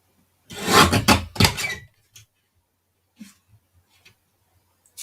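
A paper trimmer cuts through paper in two quick rasping slides close by, followed by a few faint taps and rustles.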